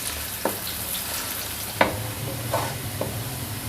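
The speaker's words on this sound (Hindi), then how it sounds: "प्याज को हम उस वक्त तक फ्राई करेंगे जब तक कि गोल्डन ना हो जाए" Sliced onions fry in a pan for a vegetable pulao, a steady broadband sizzle throughout with a few sharp stirring clinks and scrapes spaced across it.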